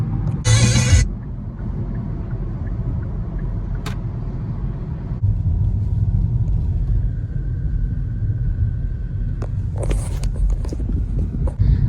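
Steady low rumble of a car engine and road noise while driving, continuous and close throughout, with a couple of brief rustling or zipper-like sounds at the start and near the end.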